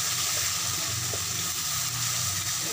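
Raw cumin seeds frying in a pan for an aubergine poppy-seed dish, giving a steady close sizzle with faint stirring scrapes throughout, with no one speaking.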